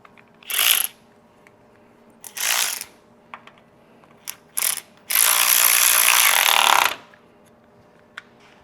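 Ratchet wrench running in valve cover bolts on a 1969 VW Beetle: several short bursts of rapid clicking, then one longer sustained ratcheting run, close and clear in a quiet garage.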